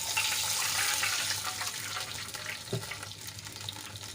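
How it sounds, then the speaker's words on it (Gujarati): Water gushes steadily into a pan of semolina, a close, continuous splashing pour that gradually softens, with a light clink near the end. "એ જ કપના માપથી આપણે બે કપ પાણી એડ કરીશું"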